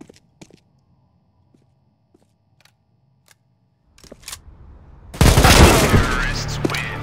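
Gunfire in Counter-Strike GO comes after a near-silent stretch of faint clicks and taps, then bursts in as a loud, sustained volley of rapid shots, harsh and close.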